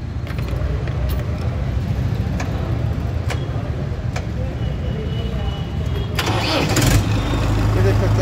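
A Mahindra 575 DI XP Plus tractor (2022) engine cranks and catches, then settles into a steady, rumbling idle that grows slightly louder toward the end.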